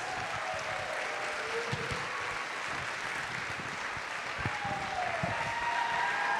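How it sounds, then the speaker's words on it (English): Audience applause for dancers returning to the stage at a live dance show, a steady wash of clapping from a large crowd that holds level throughout with faint cheering above it. "give them a big round of applause"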